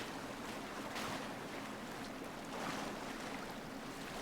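Water sloshes and splashes steadily as a character swims toward a raft in the survival horror game Sons of the Forest, with broadband wash and two slightly louder surges.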